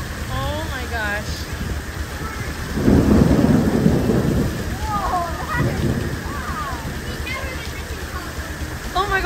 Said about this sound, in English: The thunder and lightning is so loud.